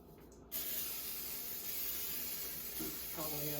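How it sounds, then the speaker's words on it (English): Cooking spray hisses steadily onto a cake pan for about three seconds, close and fairly quiet, with a faint clatter near the end. "We're going to spray our pan lightly."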